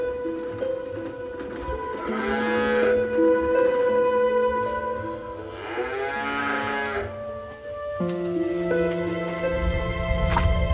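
Dairy cows on a farm in Kinahrejo on the slopes of Merapi moo loudly and close, several long drawn-out lowing calls overlapping over about ten seconds against a steady background hum.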